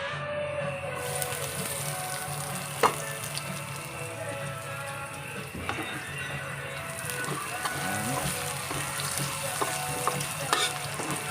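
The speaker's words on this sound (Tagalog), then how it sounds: "Lagyan na natin yung ating sibuyas." Chopped onions sizzling and crackling steadily in a hot pan of oil while cooking spaghetti sauce, a dense continuous fry close up with occasional stirring clinks and no speech.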